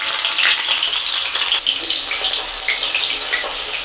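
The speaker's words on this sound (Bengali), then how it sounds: "এখন আমি যে পেঁয়াজটা কুচিয়ে রেখেছিলাম পেঁয়াজটা তেলের মধ্যে" Chopped onions hitting hot oil in a pan already toasting whole cumin, a steady loud sizzle and hiss of frying that holds without break, no voices.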